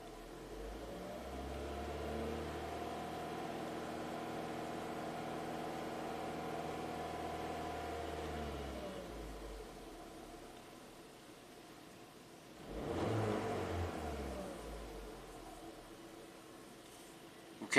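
A troubled Ford EcoBoost engine hums at a raised, steady idle for several seconds, then drops back, then gives a brief, louder swell of revving near the end. The sound is faint and even throughout.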